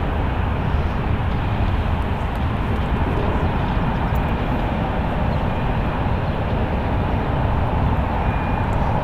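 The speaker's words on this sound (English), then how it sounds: "It's a Boeing 777-300ER." A United Airlines Boeing 777-300ER lining up on the runway for departure at San Francisco International Airport, a constant, moderately loud jet engine rumble and rush with no talk over it.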